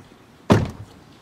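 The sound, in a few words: 2015 Nissan Murano rear door closing with a solid thud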